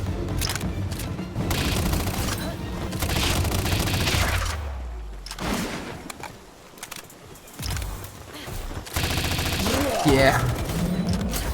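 Gunfire from the video game Palworld, dense bursts of shots running through most of the span, loud and close, with a player briefly talking over it and a short lull midway.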